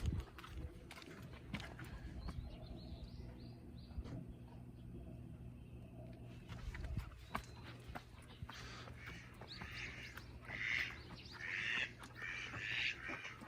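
Mallard ducks quack in scattered bursts outdoors in the Japanese countryside on a misty morning, with birds chattering nearby and a steady low rumble underneath.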